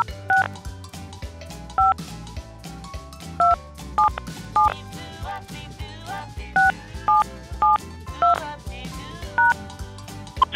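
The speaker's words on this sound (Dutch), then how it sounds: "Voer nu eerst uw 10-cijferige telefoonnummer in." Telephone keypad tones entering a ten-digit phone number for a Dutch call-in puzzle line, a series of short bright DTMF beeps in an uneven rhythm over a faint musical background.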